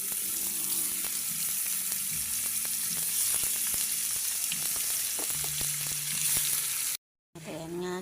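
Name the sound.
squid sizzling as it is added to the pan for adobo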